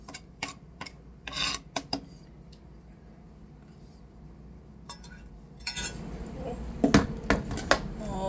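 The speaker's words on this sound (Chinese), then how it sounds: "把它切成丁" Knife chopping vegetables into small dice on a cutting board while making corn soup, a few quick clusters of sharp taps and scrapes with pauses between them, close and fairly quiet.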